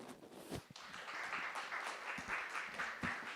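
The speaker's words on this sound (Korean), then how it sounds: "다시 한번 큰 박수 부탁드리겠습니다" Audience applause at an international symposium on national ecosystem services assessment, a steady wash of many hands clapping in a hall, sustained and moderately loud throughout with no talk over it.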